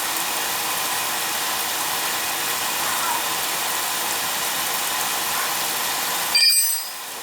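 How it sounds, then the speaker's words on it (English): A two-stage oil pump on a boiler runs with a steady, close mechanical whir and hum, ending in a brief louder burst before it quiets. "That's a two-stage pump, so we're getting a good flow of oil."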